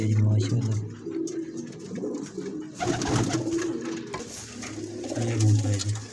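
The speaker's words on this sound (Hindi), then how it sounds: "ये कबूतर है जी।" Several freshly caught fancy pigeons coo close by, with deep, rolling throaty calls that swell at the start and end. Soft handling noises fill the gaps between calls.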